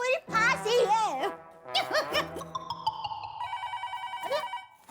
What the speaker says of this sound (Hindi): अरे, फोन आया।